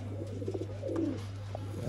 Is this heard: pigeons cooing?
yes